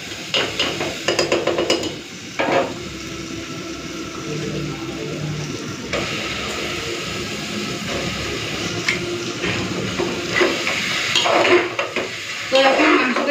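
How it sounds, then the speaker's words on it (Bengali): Mutton being stir-fried in spice paste in a pan for a pressure-cooker goat curry, with steady close sizzling and repeated clanks and scrapes of a spatula against metal throughout. "তো এখন মাংসটাকে দিয়ে ভালো করে একটুখানি কষে নিচ্ছি।"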